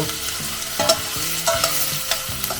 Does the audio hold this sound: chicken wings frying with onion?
yes